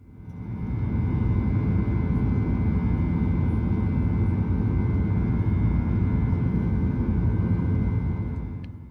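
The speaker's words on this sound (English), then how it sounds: "And with that, Southwest 1222 is airborne to Phoenix." Southwest Airlines Boeing 737 climbing out after takeoff from Reno, a steady loud broadband engine roar with low rumble that holds constant throughout, no talk.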